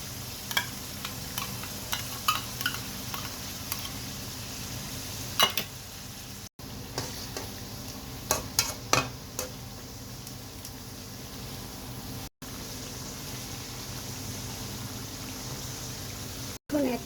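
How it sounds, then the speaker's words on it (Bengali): Chicken with sour yogurt stirred and sautéed in a pan, a quiet low sizzle with intermittent scraping stirs and soft clinks, steady and fairly faint throughout. "চিকেনটা খুব সুন্দর কষে আসছে"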